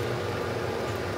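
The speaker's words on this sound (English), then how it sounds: "I'm sorry about the noise of the fan" A ventilation fan runs at low level in a polytunnel, pulling in cooler air and pushing it along, giving a steady close broadband whoosh with a low hum and no talk.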